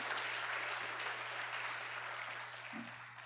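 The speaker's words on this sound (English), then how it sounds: "Let us give her another round of applause to encourage Radha." An audience applauds at a Bharatanatyam arangetram, steady, dense clapping heard from within the hall under a faint low hum.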